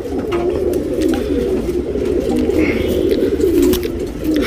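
Tournament pigeons coo continuously, close and loud, a dense rolling chorus of throaty calls with no pauses.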